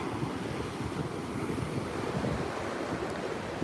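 Ocean waves surge and wash steadily with a broad, continuous roar, joined by gusting wind buffeting the microphone, loud and close throughout with no voices.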